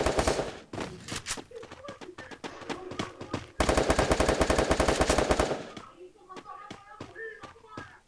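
Rapid bursts of automatic gunfire in a video game crackle in quick succession, with one long sustained volley in the middle, followed by scattered shots and a voice speaking.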